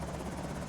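A helicopter in the zombie-survival game Project Zomboid gives off a steady whirring rotor drone with rapid blade chop, loud and continuous throughout the short moment.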